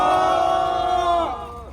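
Crowd at an outdoor press conference against the planned ocean release of Fukushima radioactive water raises a loud shout together, a sustained massed cry that holds for over a second before tapering off.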